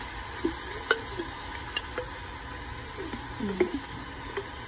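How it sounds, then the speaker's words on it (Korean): Minced vegetables and meat stir-fried in a pan for eggplant lasagna, soft sizzling under scattered scraping and stirring clicks, close and fairly quiet with no talk. "이제 다진 채소와 고기가 어느 정도 익을 정도만 볶아주시면 되거든요"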